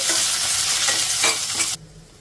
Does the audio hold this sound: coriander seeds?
yes